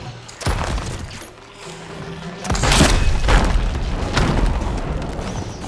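A loud explosion booms in the Sea of Thieves video game: a sharp burst at the start, then a second, heavier blast that rumbles on with crackling bursts and a sustained roar, with no talking.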